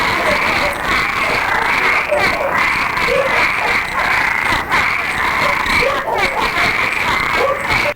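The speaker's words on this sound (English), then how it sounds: "That's the sound of the Cuban tree frog" Cuban tree frogs calling in a dense, continuous chorus of raspy croaks, loud and steady throughout, with overlapping calls and some background noise.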